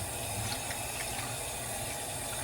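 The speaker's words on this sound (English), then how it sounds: "you want to rinse that salt off this ham" Tap water runs in a steady, moderately quiet stream over a salt-coated boneless spiral ham, rinsing it in the sink without pause.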